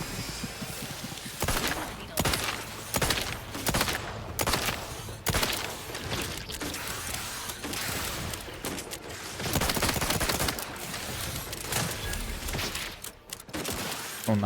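Heavy gunfire in The Outer Worlds 2, dense bursts of automatic shots and volleys firing continuously at close range, loud and relentless with brief gaps between clusters.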